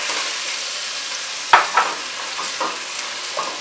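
Onions, celery and parsley sauté in a pan with a steady broadband sizzle, broken by a sharp utensil clack and a few softer stirring scrapes; no one speaks.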